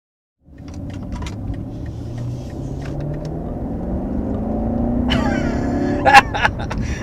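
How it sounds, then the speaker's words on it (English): A 2022 BMW 750i luxury sedan with over 500 horsepower accelerates quickly, its engine and road rumble rising steadily in pitch from inside the cabin, with a few brief clicks near the end. "That's just a quick sample of the acceleration in this thing."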